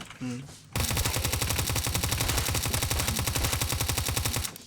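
Model 78 carbine fire in the online game Apocalypse Rising 2: a long, loud, rapid automatic burst of evenly spaced shots lasting about four seconds, preceded by a brief voice.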